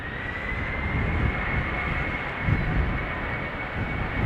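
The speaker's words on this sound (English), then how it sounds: "It's an Embraer 190 long range up to Stuttgart." An Embraer 190 jet departs Amsterdam Schiphol on runway 36L, heard as a steady broadband engine roar. It holds constant and fairly loud for the whole span, with a faint whine above the rumble and no voices.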